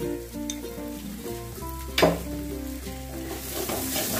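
Salted spice masala for a prawn dish is stir-fried in a little oil in a pan. It gives a continuous close sizzle with stirring scrapes and one sharper clatter midway, over a steady tonal hum in the background.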